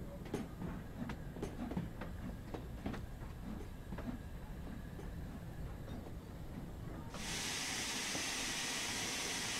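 An 8F steam locomotive hauling a carriage relief train chuffs along in a steady rhythm with clicking beats, then a loud broad hiss of steam takes over near the end.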